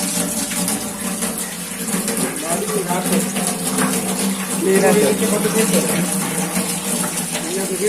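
Continuous water gushes and splashes loudly, like a tap running into a tub, while people talk over it.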